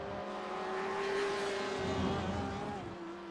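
Race cars, a Corvette among them, in a Le Mans racing game, heard as a steady, droning engine whine that swells and falls slightly as cars run close together.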